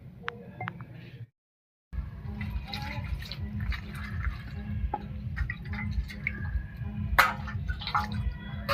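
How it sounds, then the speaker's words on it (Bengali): Trimmed aloe vera leaves are washed in water, giving a soft continuous wash of liquid with scattered drips and small splashes, briefly cut to silence near the start. "এবারে ধুয়ে নিচ্ছি অ্যালোভেরা ডাটাগুলো"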